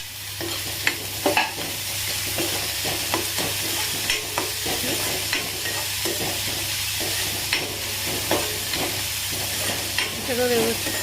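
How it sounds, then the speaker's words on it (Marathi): Boiled vegetables are sautéed in ghee with cumin in a kadhai for pav bhaji. A steady sizzle and hiss runs throughout, broken by repeated scraping strokes of a stirring spoon close by. "सगळं व्यवस्थित परतून घेतलं तेलावरती."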